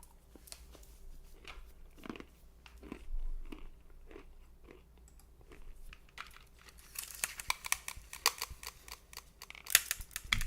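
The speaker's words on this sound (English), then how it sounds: "Let me finish my macadamias." Macadamia nuts being chewed close to the mic, with soft irregular crunches and bites that grow busier and sharper toward the end, no talking.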